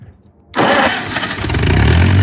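A tractor engine cranks and catches after a brief quiet moment, then settles into a loud, steady running rumble close by, with no talk.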